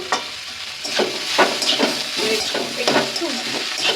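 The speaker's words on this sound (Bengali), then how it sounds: "এর সাথে ভালো করে মিশিয়ে নিতে হবে কষিয়ে নিতে হবে ভালো করে" Banana flower with spices and potatoes is stirred and fried in a pan, a continuous sizzle broken by repeated scraping strokes of a spoon, close and fairly loud.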